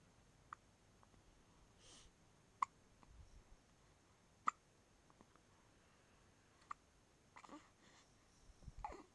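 A baby hiccups in short, sharp isolated bursts spaced a few seconds apart, faint and close, with soft breathing and small sniffly sounds between them in a quiet room.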